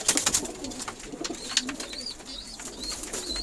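Pigeons coo softly and repeatedly through the scene, with brief bird chirps and light fluttering, all close by at low volume.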